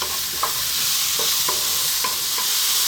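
Chunky mushrooms frying over lively heat for a creamy chicken mushroom potato pie, a steady sizzle broken by several scraping stirs of a utensil in the pan, close with no voices.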